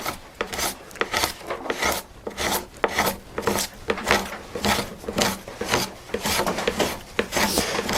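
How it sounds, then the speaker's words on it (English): A card scraper scrapes a paper pattern off a hand-carved Celtic weave wood piece, giving repeated close, raspy strokes in a steady back-and-forth rhythm. "I'm just going to use a card scraper and scrape the pattern off"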